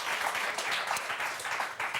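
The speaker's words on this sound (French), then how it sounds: "on va vous applaudir très fort" A TV game-show studio audience claps steadily for the departing contestants, a dense, even wash of applause that stays fairly quiet and continuous for the whole stretch.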